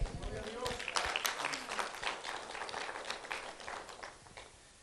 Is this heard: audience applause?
yes